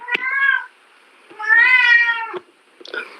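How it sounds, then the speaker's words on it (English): A domestic cat meows loudly and close by: one drawn-out meow, a pause, a longer rising meow, then a short chirping call. "you can hear my cat in the background"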